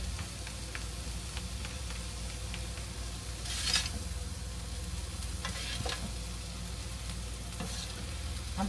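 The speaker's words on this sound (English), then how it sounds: "I'm trying to keep stirring it. I don't want it to stick too much to the bottom." Cheesesteak filling frying in a little oil in a pan, stirred steadily with a utensil, giving a continuous close sizzle broken by occasional scraping clicks and a brief louder burst of spatter partway through.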